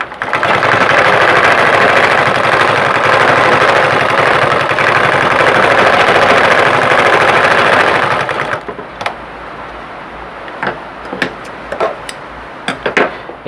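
A sewing machine stitching with its upper thread running loose, a loud continuous whirring mechanical drone for about eight seconds before it stops, followed by light clicks and handling noises.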